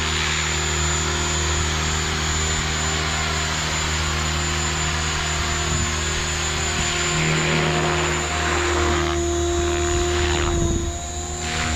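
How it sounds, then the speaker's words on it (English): Synergy 516 RC helicopter flying nearby with a steady, loud whine from its motor and rotor, plus a continuous whirring drone at a constant pitch that holds unbroken for nearly twelve seconds. "Boy, what a beautiful helicopter."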